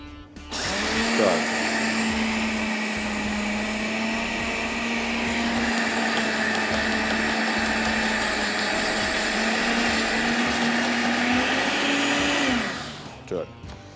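An electric kitchen grinder whirs steadily while grinding date (khajoor) filling into a thick paste, a loud continuous motor drone that starts and stops abruptly, with no talk over it.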